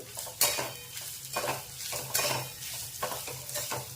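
Grated fresh coconut sautéed in a pan for steamed modak filling, with repeated scraping and stirring strokes over a soft, steady sizzle, close and fairly quiet.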